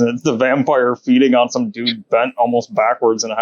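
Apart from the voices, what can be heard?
No everyday noise stands out behind the speech.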